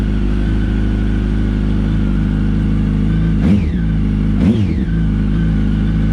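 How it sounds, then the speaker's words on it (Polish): A loud, deep Yamaha R1 motorcycle engine with its exhaust mufflers removed idles steadily, then gets two short throttle blips that rev up and drop back, with a throaty bass exhaust. "z samych wydechów tak jakby bardziej wydobywa się właśnie bardziej basowy taki dźwięk"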